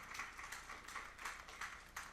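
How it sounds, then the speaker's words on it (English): Audience applause at a veterans' picnic, a steady spread of clapping sustained through the whole moment with small rhythmic swells, moderately distant and fairly soft. "give them one more round of applause"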